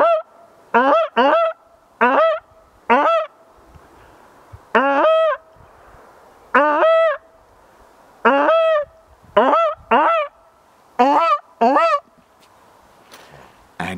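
A person imitates goose honks with a goose call, giving a dozen loud, nasal two-note honks in uneven bursts with short pauses between.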